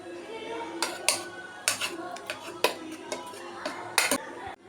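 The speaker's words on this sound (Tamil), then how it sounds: "ஒரு மத்து வச்சு மசிச்சுக்கலாம், இல்லைன்னா கரண்டியில் மசித்தாலும் சரி." Cooked vegetables are pressed with a wooden masher in a pot, giving a series of irregular knocks and scrapes against the vessel, separated by short quiet gaps and fairly close.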